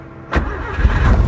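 A 1984–1986 Honda Civic SB4 Wonder sedan engine cranks and catches with a sudden burst, then settles into a steady, close rumbling idle.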